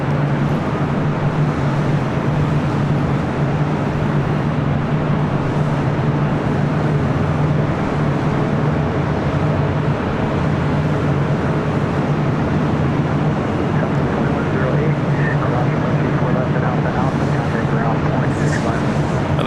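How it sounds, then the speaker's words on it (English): Finnair Airbus A350-900 taking off at LAX, a continuous loud engine rumble with a low steady hum, sustained throughout with a voice talking faintly underneath. "That was Finnair Flight 2 heading back to Helsinki in that A350-900."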